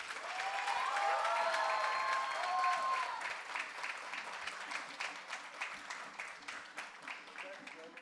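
A crowd in Ahmedabad applauds as actor Tusshar Kapoor, Suhail Mathur and Umashankar Yadav come on stage. The dense clapping starts loud and gradually thins out, with a sustained tone and murmuring voices beneath it.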